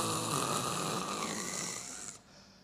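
A voice imitates snoring, drawing out several rough, rattling snore-like breaths one after another before trailing off into quiet.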